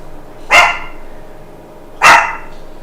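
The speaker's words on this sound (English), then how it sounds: "Oh, that's our cute little dog, sorry." A small pet dog barks twice indoors, two sharp, loud yaps about a second and a half apart, standing alone against a quiet room.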